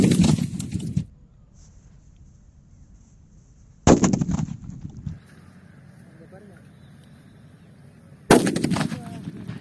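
Three sharp bursts of firecrackers set off by a 9-volt battery go off several seconds apart, each a loud crackling pop, with quiet stretches and faint background noise between them.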